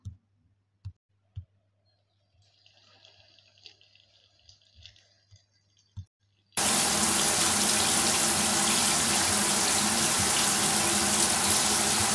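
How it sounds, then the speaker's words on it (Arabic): Shower water running steadily in the Avatar World game, a loud, continuous broadband hiss that switches on abruptly after a few faint game clicks and taps and runs unbroken to the end. "هروح بقى اخد دش"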